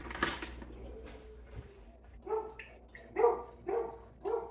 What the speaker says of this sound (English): sorry, the neighborhood dogs are talking